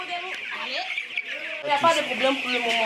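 Broiler chickens clucking and chirping in a poultry farm house, many birds close together in a steady chorus while someone speaks French over them.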